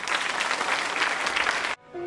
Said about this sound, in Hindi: एक बार तालियां बजाइए आप अपने लिए